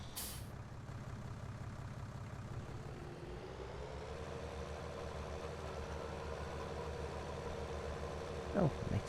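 A small tractor in Farming Simulator 19 hauls a heavy trailer, its engine droning steadily with a low rumble that shifts pitch partway through, a brief hiss at the start and a short rising whine near the end.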